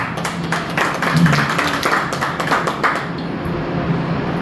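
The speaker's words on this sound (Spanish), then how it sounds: "Den un fuerte aplauso al Señor" A church congregation applauds, standing, with many hands clapping in a fairly even, repeated rhythm that carries through most of the stretch before thinning out near the end.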